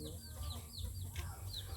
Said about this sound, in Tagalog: Andito ang iba kong manok doon na guys